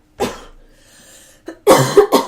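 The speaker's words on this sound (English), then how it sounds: "I gotta cough again." A sharp cough up close, a short quiet pause, then a quick cluster of harsher coughs.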